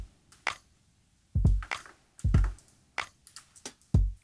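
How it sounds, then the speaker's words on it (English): A sparse drum loop plays alone, with punchy low kicks and sharp layered claps carrying a bright jingling shimmer, in a steady rhythm. "I've layered 2 claps. One that also has like a tambourine on it"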